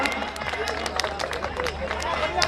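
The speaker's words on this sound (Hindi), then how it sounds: "इस बच्चे के लिए जोरदार आशीर्वाद के रूप में जोरदार ताली आपकी तरफ से हो जाए" Guests at a wedding reception give loud applause for a child, a dense continuous wash of many hands clapping with scattered sharper claps and a crowd murmuring and chattering underneath.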